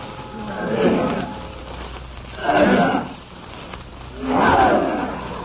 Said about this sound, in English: The great blue marble stone was pushed away from the door by powerful slaves.